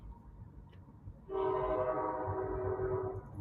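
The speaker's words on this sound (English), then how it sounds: "Y'all hear the train going by?" A passing train sounds a long, loud horn that starts suddenly after a quiet stretch and holds a steady, rich tone, with a low rumble underneath.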